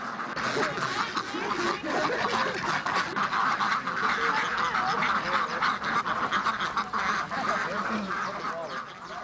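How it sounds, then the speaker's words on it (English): Ducks quacking loudly and continuously at a Chinese research farm, a dense flock calling over one another up close, with some honking mixed in throughout. "But the loudest animals are the ducks."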